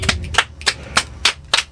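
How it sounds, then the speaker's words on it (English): Sharp claps ring out, about six evenly spaced and loud, from a few hands at a small recorded show rather than a large audience, with no talk over them. "Can we get a round of applause from the audience?"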